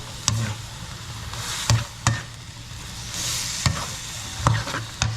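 Stir-frying sizzle in a pan of upo (bottle gourd) with chili for Filipino ginisang upo with malunggay: a steady frying hiss broken by several sharp clatters of a spatula or ladle against the pan.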